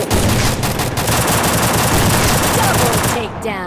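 Sustained loud gunfire in a video game match, a dense unbroken barrage of rapid shots lasting several seconds before cutting off abruptly, credited to an AWM sniper rifle.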